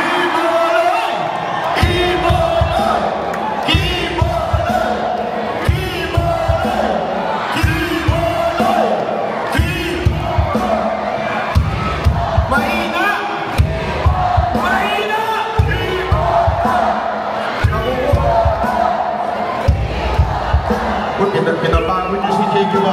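A large crowd at a Pacquiao for Senator campaign rally shouts and cheers loudly and continuously, with bursts of voices and whoops rising and falling throughout.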